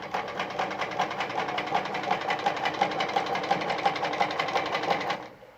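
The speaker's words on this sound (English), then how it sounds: "all right, I'm sewing" An Adlerina model 240A sewing machine stitches a buttonhole, a fast, even mechanical chatter running steadily for about five seconds up close before stopping abruptly.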